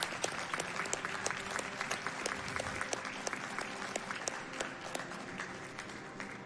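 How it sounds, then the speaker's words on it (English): An audience at a speedrunning charity marathon event gives a steady round of applause, dense continuous clapping with scattered louder claps, sustained throughout at a moderate distance. "give a big round of applause to the people behind the scenes"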